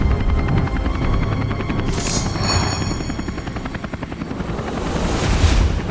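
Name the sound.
helicopter in a cartoon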